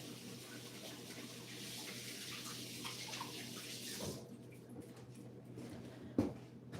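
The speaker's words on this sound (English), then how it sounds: "Wash my hand." Water from a kitchen tap runs steadily over hands at a sink while salmon patties are being made, a close continuous splashing that cuts off partway, leaving quiet room sound with a brief clunk near the end.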